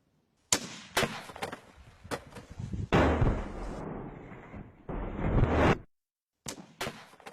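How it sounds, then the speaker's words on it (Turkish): A Turkish Bora-12 rocket launcher is test-fired outdoors, giving sharp distant blasts followed by a sustained rushing roar of about three seconds, then more scattered cracks. "Atış."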